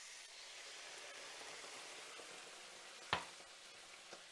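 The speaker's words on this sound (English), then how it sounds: "put in the wine first to deglaze the pan" Wine hits a hot pan to deglaze it while making chicken cacciatore. A soft, even sizzling hiss runs throughout, broken by one sharp clack near the end.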